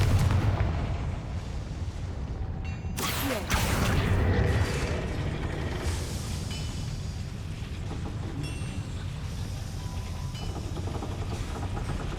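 A Confringo blasting spell explodes in Hogwarts Legacy on PS5: one loud, sharp burst erupts partway through, then rumbles on amid dense, steady mechanical background noise.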